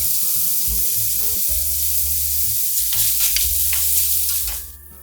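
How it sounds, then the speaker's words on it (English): Asparagus tips and diced prosciutto sizzle in olive oil as they are stirred, a loud steady frying hiss with a few scrapes over background music that fades at the end. "Add the asparagus tips. Salt and pepper to taste. Stir, cover, and cook 1 minute."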